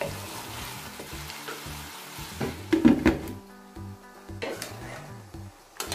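Ground meat and onion fry together in a pan, a steady close sizzle with occasional stirring scrapes and louder bursts of crackle, no talk over it.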